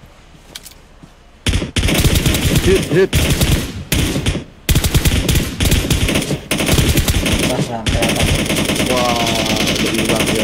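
Rapid bursts of automatic gunfire from the mobile battle-royale game PUBG Mobile, loud and nearly continuous after a quiet opening, broken by short gaps, with players talking over the shooting.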